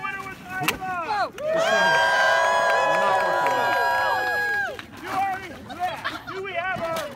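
A crowd at a wacky races event erupts in loud, sustained cheering and high screams for a race entrant, holding for about three seconds before fading into scattered voices and chatter.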